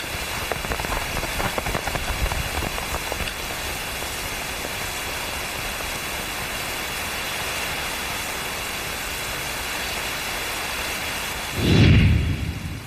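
Heavy rain pours in a steady, dense roar through a period drama night scene, with a low rumble of thunder swelling near the end.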